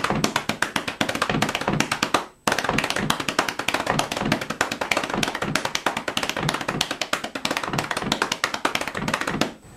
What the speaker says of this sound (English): I like to add this triplet beat that would just kind of explode right out of the bass pattern. And it's just a right, left triplet pattern.